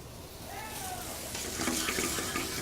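Mushrooms cook in a pan with a little butter, making a moderate, crackling sizzle that grows slightly louder partway through, with faint stirring and a brief soft voice.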